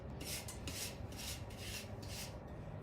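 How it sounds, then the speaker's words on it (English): A wire brush rasps scale off hot forged iron in four or five steady rhythmic strokes, close and fairly quiet over a constant background hum. "So I'm going to wire brush that off."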